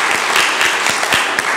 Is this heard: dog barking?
no